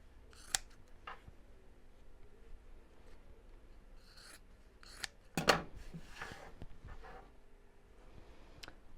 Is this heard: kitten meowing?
no